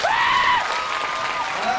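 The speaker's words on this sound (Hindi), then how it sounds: "जोर से यीशु मसीह के लिए ताली बजाइए।" A congregation at a Nepal youth church conference claps loudly in praise, a dense wash of applause with a voice calling out over it near the start.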